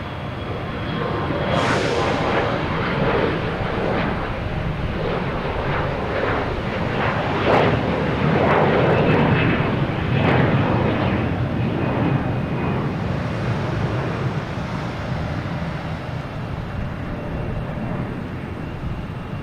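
Airplane on its takeoff roll at Boston Logan Airport at night, a loud sustained jet roar that stays powerful and broad throughout with a slowly shifting whine, heard alone without talk.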